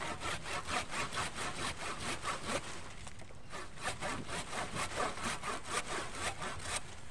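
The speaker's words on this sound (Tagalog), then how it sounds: "So gagamitin lang natin tong lagari." A hand saw cuts through a cacao branch during pruning, with steady back-and-forth rasping strokes repeating evenly and close up, without speech.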